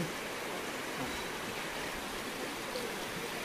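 A river stream in Uttarakhand flowing steadily, a soft, even rush of water throughout, fairly faint and with no voices.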